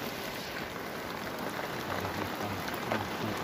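A downpour drums continuously over hillside vegetable fields in Garut, a close, broadband wash of falling water, unbroken and loud, with no talking over it.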